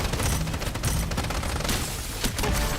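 Dense, rapid gunfire crackles from a shooter video game, a continuous fusillade of shots filling the whole moment with no voices over it.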